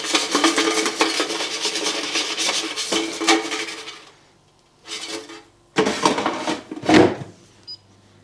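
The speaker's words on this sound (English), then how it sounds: "Let's remove the basket and shake a little bit." A Philips 2000 Series NA2290 air fryer basket is pulled out and shaken, giving a few seconds of rough rattling and scraping, a pause, then two more short bursts of jostling with one sharper knock, all close and with no talking.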